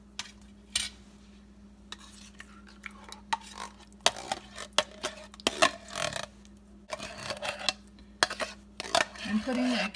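Metal and glass clatter as a can of cherry pie filling is emptied into an 8x8 inch baking pan, with scattered knocks, scrapes and clinks, louder toward the end, over a steady low background hum.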